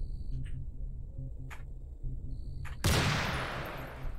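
Gunfire in Cataclysm DDA: a few faint clicks and small pops, then one sharp, loud shot whose noisy tail decays over the last second.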